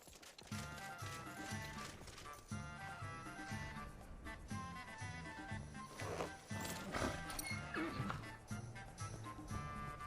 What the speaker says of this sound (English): We gotta wait for Lydia to get off my horse